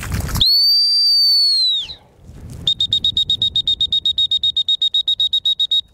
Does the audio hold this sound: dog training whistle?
yes